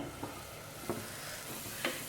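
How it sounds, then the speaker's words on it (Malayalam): A spoon stirs tomato-based chana masala in a pan over medium flame, three soft scraping strokes spaced out over a low continuous simmering sizzle, close and fairly quiet. "ഇനി ഇത് നമുക്ക് നന്നായിട്ടൊന്ന് മിക്സ് ചെയ്തെടുക്കാം"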